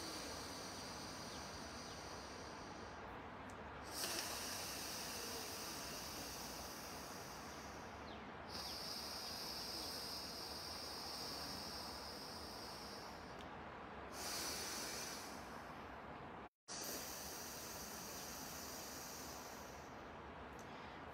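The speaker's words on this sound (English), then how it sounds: "rhythmic breathing that can happen in your body that just helps reset you" Slow rhythmic breathing exercise through the nose, long airy inhales and exhales repeating in cycles, close and soft, with a brief dropout near the end.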